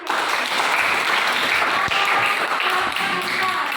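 A room full of audience members claps together in sustained, dense applause at a group exam or training session, steady and fairly loud throughout with one sharp thump partway through.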